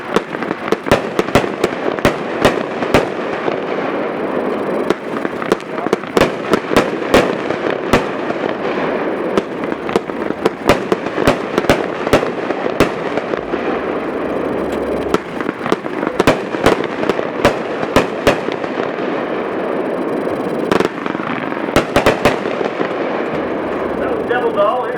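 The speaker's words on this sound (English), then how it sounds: "Number 3, Devil Doll, 24 shots, 500." A Devil Doll 500-gram fireworks cake fires its 24 shots outdoors at a demo, a rapid string of loud sharp bangs over a continuous crackling roar that carries on with little pause throughout.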